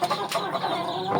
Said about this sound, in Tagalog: Hindi kagaya nito na mga native chicken na to.